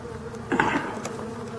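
Steady bee buzzing fills the clip, swelling briefly in the middle, like a cluster of bees humming close by a hive netting.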